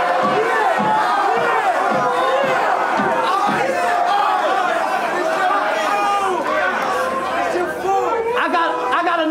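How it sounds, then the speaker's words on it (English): A dense, packed crowd at a King of the Dot rap battle yells, shouts and chatters continuously and loudly for several seconds, with rhythmic bursts of cheering rising out of the roar. "Anybody in that crowd yell out Ice?"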